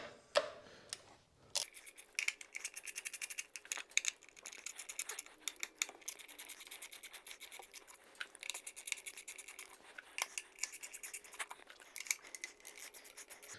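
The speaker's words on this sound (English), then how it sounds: "we can go ahead and start removing the screws for the primary cover or the derby cover" Motorcycle derby cover screws being removed during a three-hole oil change on a lift: a faint opening clunk, then steady close clicking and ratcheting from a hand tool for over ten seconds, quiet and without talking.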